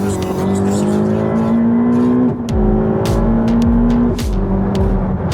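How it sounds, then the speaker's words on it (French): A Nissan GT-R engine revs loudly and close, pulling hard through rising pitch with two distinct gear changes, the intake and exhaust note building again after each shift. "le bruit de la GTR."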